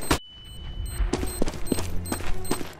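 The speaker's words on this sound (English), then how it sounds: "Throwing flashbang." Flashbang grenade going off in Counter-Strike GO on the Dust 2 map: one sharp, loud bang, then a series of clattering shots and impacts close by, with no talking.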